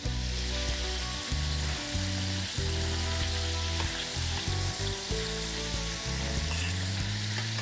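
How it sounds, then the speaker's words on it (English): Shrimp sear in a hot frying pan with a loud, steady crackling sizzle throughout, no voices over it. "your shrimp are not fully cooked. They're only about a third of the way, but you've got a little bit of a sear going on them"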